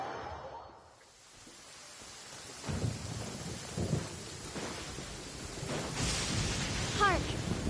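Thunder rumbles in the Genshin Impact video game over steady rain, low rolling booms building through the scene with a brief chiming effect near the end.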